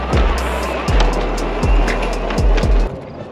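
An electric vehicle with a lithium battery and a Navitas 600 amp AC controller accelerates at full throttle. It gives a loud, close rumbling road roar, broken by a series of regular thumps as the tires roll over pavement joints.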